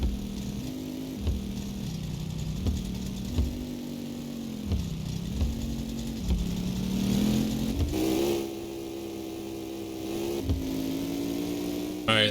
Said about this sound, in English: So we're just shifting through all the gears with no clutch.